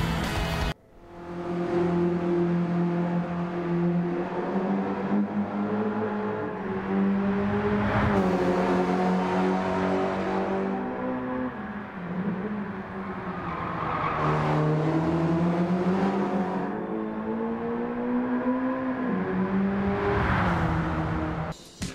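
Mitsubishi Evo 4 racing in Gran Turismo 7, its engine droning loudly and continuously near the listener, with pitch rising through the revs, dropping at gear shifts and easing off into braking, and no talking.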